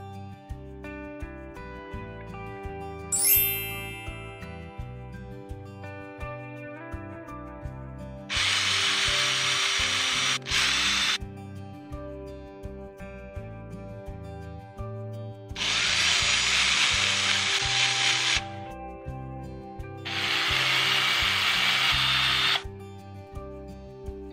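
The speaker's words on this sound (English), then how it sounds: "I'm gonna drill a hole in the top of the stars" A power drill whirs in three separate bursts of several seconds each, boring holes into wooden stars, with a quieter clatter and handling noises between them.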